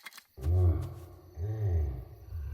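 A bear roaring in a French animated cartoon set in a forest, two deep rumbling roars each lasting about half a second, fairly quiet in the mix with no speech.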